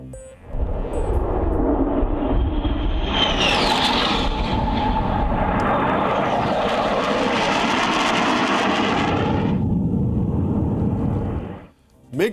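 A MiG-21 fighter jet of the Indian Air Force passes at Chandigarh airbase, a loud sustained engine roar with a rising whine that holds steady for several seconds before cutting off sharply.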